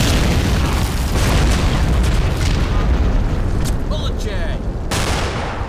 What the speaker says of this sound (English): there's still a land mattress attacking me from a great distance there